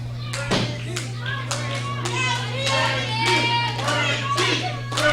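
A small crowd at an NWA Texoma wrestling show cheers, shouts and claps steadily for Frankie Fisher, with children's voices prominent. The noise is loud and continuous, and a commentator talks over it.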